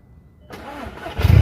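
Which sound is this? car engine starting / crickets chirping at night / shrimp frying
car engine starting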